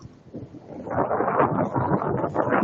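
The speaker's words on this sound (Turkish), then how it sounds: "Mustafa Bey, çok rüzgarlı gibi oralar." Gusty wind at Çalış Beach in Fethiye roars against the microphone, building from a low rumble into a steady, loud buffeting.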